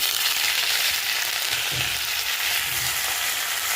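Red chillies sautéing in a pan while tempering gooseberry rice, a steady close sizzle of frying with a few soft stirring knocks underneath.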